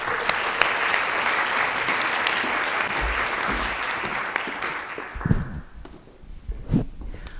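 Audience applause welcoming the editor of a book on fashion and European art at a talk: steady, dense clapping for about five seconds that tapers off into scattered claps and a few faint footsteps or shuffles.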